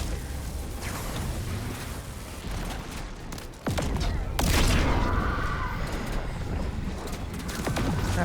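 Gunfire during a video game boss fight against the Entity, rapid bursts of shots with sharp booming hits layered over steady combat noise, a player talking over it.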